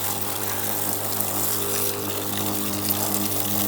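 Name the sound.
portable camping shower spraying water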